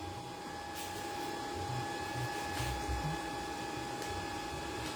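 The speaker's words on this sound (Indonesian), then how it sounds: "Suara bising ini suara kipas ya," Cooling fan of a dual-machine spot welder runs as a steady, loud whirring hum with a constant tone, continuous and unbroken throughout.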